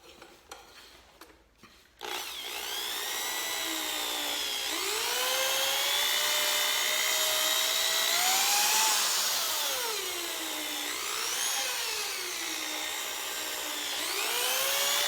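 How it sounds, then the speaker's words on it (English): After a couple of seconds of quiet handling, a power drill whirs up and runs steadily, its pitch rising and falling as it buffs a car headlight with aluminum wheel polish. "get the old drill out"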